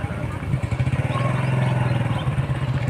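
A motorcycle rolls slowly into a parking area at Nilkanth Mahadev temple in Beawar, Rajasthan, its engine chugging in a steady, rapid low pulse, close and fairly loud, with no talk over it.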